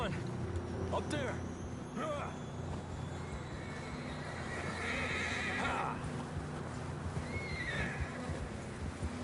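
A horse whinnies in the Red Dead Redemption 2 video game, a brief neigh over hoofbeats and steady outdoor ambience, with someone talking over much of the scene.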